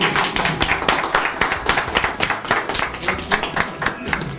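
An audience at a women's wing Independence Day celebration of a welfare society in Kuwait claps to welcome a speaker. The rapid, dense clapping is steady and sustained, close and loud, with faint voices mixed in.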